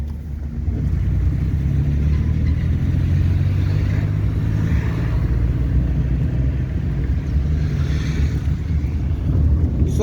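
A car pulls away in a driving lesson, engine droning low and steady throughout with wind and road rumble, no distinct gear-change event standing out.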